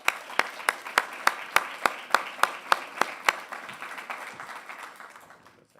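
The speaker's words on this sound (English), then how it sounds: "let's give him a round of applause" A small crowd at a school board meeting claps in a round of applause, with a few sharp individual claps leading the steady patter before it fades out.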